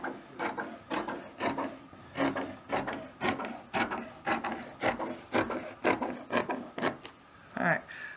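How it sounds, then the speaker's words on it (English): Excess fabric is trimmed off the edge of a quilt made from vintage sheets, with about a dozen close, rhythmic rasping cutting strokes in a steady cadence. "I have excess fabric here that I'm going to trim."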